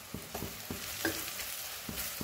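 A spoon stirs chana dal with chilli, turmeric and garam masala in a pan, giving a steady sizzle broken by several soft scraping strokes at an irregular pace, close and fairly quiet, with no talking.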